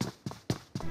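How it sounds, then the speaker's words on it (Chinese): Four quick, evenly spaced footfalls from a player in a video game, thudding and fairly close over a soft background hiss. "注意听脚步，要从这里出来"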